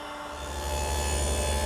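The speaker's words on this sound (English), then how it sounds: "Here I'm running some rail stock, and the idea is to get a 1/4 inch groove right down the center." A dado head cuts a quarter-inch groove down the center of wooden rail stock for a croquet set box, giving a steady rising rasping whir throughout.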